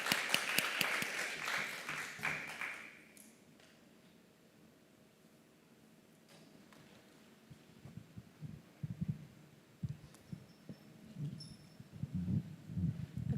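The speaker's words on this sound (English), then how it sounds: "let's have a round of applause" Applause from a modest conference audience in Dubai rises loudly for about three seconds, then cuts off, leaving a low hum with scattered handling knocks and murmurs.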